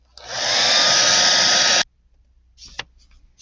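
A hair dryer blows on a watercolor night-sky painting, a loud steady whoosh for nearly two seconds that cuts off abruptly, followed by a few faint short bursts.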